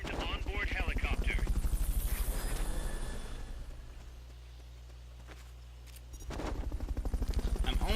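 In Metal Gear Solid: Peace Walker, a helicopter's rotor chops in a loud, rhythmic beat that fades to a low hum for a few seconds before the pulsing returns.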